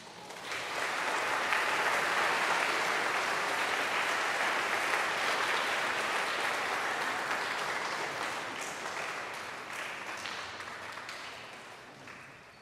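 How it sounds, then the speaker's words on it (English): An audience at an 8th grade school recognition ceremony applauds in a long, steady wash of clapping that swells early and slowly fades toward the end, with no talk over it. "Bond Wayne, Sarah Eskandar, please hold your applause."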